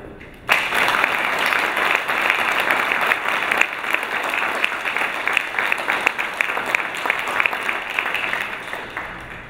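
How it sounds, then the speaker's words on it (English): A large round of applause from an auditorium audience for a discussion panel at the end of a talk on Europe, starting abruptly and holding as dense, steady clapping throughout. "invite you all for one really large round of applause for our panel here tonight"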